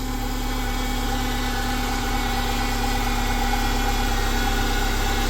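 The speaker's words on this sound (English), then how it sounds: "Engine's quieting down." A car engine with a little smoke coming off it idles steadily with a low, continuous rumble and faint vibration, close by, with no voices.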